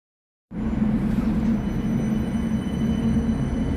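Tram rumbling at Edgbaston Village stop, a sudden onset of steady low rolling noise that holds close and loud after a moment of silence.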